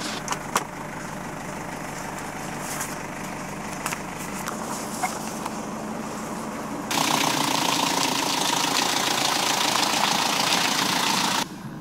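A car's engine idling roughly at close range, a steady uneven mechanical rumble with faint ticking, growing louder and fuller midway before dropping back, no voices.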